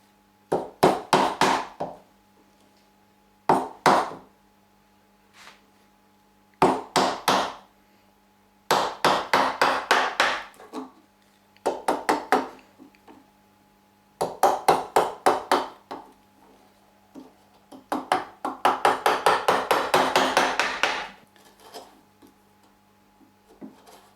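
Hand sawing wood for a rustic Viking-style bench: bursts of rapid rasping strokes, close and loud, separated by short pauses, with a longer run of quick strokes near the end.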